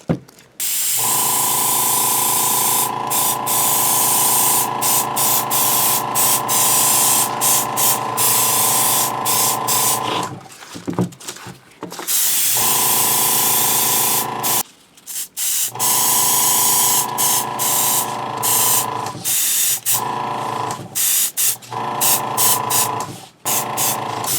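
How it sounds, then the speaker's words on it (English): Long hissing bursts from an airbrush spraying paint onto starship replica model panels, broken by short pauses and quick clicks, close and steady. "when you're spraying off of these panels"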